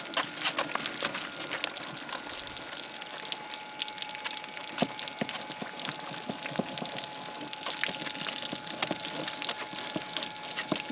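Ivation USB water pump spraying a soft shower over a dog being washed, a faint steady hiss of falling water with a thin pump whine and scattered splashes, no voices.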